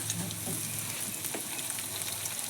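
Garlic paste sizzling and frying in a pan after chopped onions have browned, a steady crackling hiss with a brief stir near the start, close and without talk.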